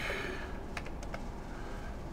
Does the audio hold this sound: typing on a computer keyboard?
yes